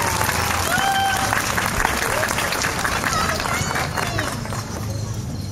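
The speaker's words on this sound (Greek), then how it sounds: "Ένα χειροκρότημα." Crowd applause at an outdoor Christmas tree lighting ceremony in Syros, Greece, a steady wash of clapping sustained throughout at moderate loudness, with crowd murmur beneath.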